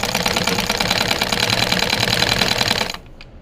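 A sewing machine runs steadily, stitching the pleated cuff of a sleeve with a rapid, loud, continuous mechanical chatter for about three seconds before stopping abruptly, leaving near silence.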